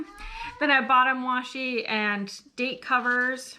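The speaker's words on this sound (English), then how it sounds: "Sorry for my cats in the background." Cats meowing in the background, drawn-out wavering cries that rise and fall, fairly loud and mixed in with a person talking nearby.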